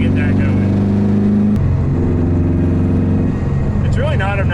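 Steady engine drone from a WRX-swapped Subaru GC8 cruising on the highway, a constant low hum with road noise throughout and a voice briefly heard over it.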